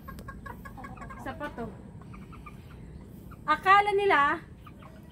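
Chickens clucking in a pen: a run of short clucks early on, then a louder drawn-out crowing call near the end, over a quiet outdoor background with a brief spoken word.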